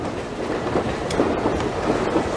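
A train runs on its rails with a continuous rumbling roar and faint clacking, heard from on board in a dubbed action film.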